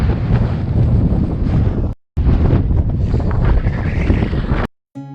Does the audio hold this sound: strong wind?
yes